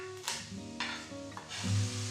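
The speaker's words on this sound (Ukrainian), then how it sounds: "жир і викладаю нарізану моркву. Перемішую та тушкую." Sliced carrots and crushed garlic cloves stew in plenty of fat in a pot for a chicken risotto, giving a steady close sizzle with a few soft stirring scrapes and clinks.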